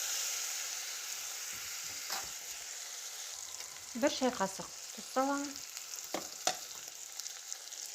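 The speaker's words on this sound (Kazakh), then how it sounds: "Барлығын майға бататындай етіп араластырып аламыз. Осылай қуырылған кезде дәмдеуіштердің иісі," Spices fry in oil in a pot while being stirred for barley soup, giving a soft, steady sizzle with scraping strokes near the middle. A voice speaks briefly over the cooking sound.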